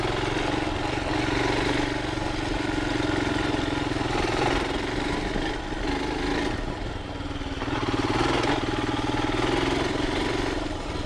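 A 2021 Royal Enfield Himalayan single-cylinder motorcycle thrums steadily while being ridden, its engine note rising and easing slightly over a continuous rumble, with wind and road noise mixed in and no voices.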